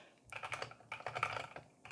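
Brisk typing on a Keycool Y75 mechanical keyboard, close and clear, coming in quick bursts of clacky keystrokes with short pauses between them.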